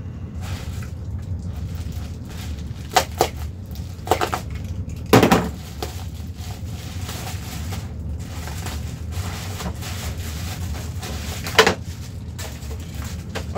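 A dull knife works at a shipping box holding Ape Labs neon tubes, sending out scattered scraping, tearing and crinkling bursts over a low background hum. The sharpest rip comes a little past five seconds, with further scrapes following.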